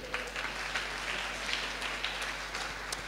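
A congregation claps in a church, a steady patter of applause that sounds fairly distant, with scattered louder individual claps and a constant low hum underneath.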